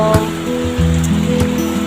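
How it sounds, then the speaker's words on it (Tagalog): Heavy rain during Typhoon Enteng, a steady loud wash of falling water with dense patter, close and continuous throughout. "ayan guys, napakalakas ng ulan ngayon."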